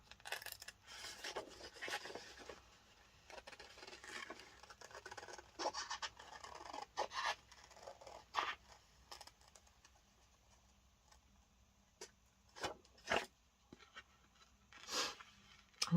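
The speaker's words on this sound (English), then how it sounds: "I'm just going to cut this out." Paper ephemera being cut out by hand, a steady run of soft scratchy rasping and snipping for about sixteen seconds, close and fairly quiet, with a few sharper clicks near the end and no talking.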